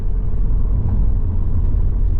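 Vauxhall Cavalier Diplomat 2.0i driving in limp mode with severe power loss, heard from inside as a steady, loud low engine and road rumble with no talk.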